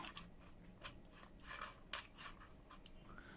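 Scissors snip through material in a quiet indoor craft setting, a series of short, crisp cuts spaced irregularly, with one sharper, louder snip near the middle and no talking.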